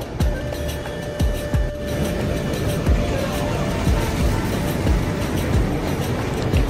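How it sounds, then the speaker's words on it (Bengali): A train rumbles steadily across the Yamuna river bridge on the way to Prayagraj, with a dense continuous roar and repeated rhythmic clacks from the wheels, close and loud throughout. "অবশেষে আমাদের ট্রেন ক্রস করলো এই যমুনা নদীর ব্রিজটি"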